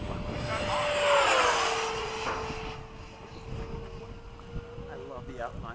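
A model F-15 jet flies past, its engine tone swelling to a loud whoosh and then fading into a steady distant whine, with faint background sounds at the end.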